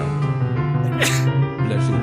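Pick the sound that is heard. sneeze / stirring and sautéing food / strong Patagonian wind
sneeze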